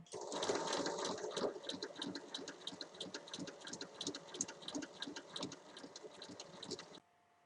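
A sewing machine runs steadily, stitching strips of patchwork fabric together for a small fabric catch-all tray. The rapid, even mechanical chatter is close and continuous for about seven seconds, then stops abruptly.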